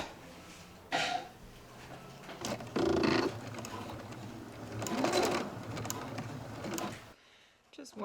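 A sewing machine stitching a fabric play mat runs in a few short bursts of rapid whirring, moderately close, with pauses and small handling noises between runs and a voice speaking at times.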